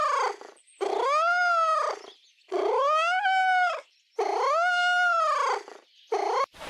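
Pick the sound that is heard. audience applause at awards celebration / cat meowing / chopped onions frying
cat meowing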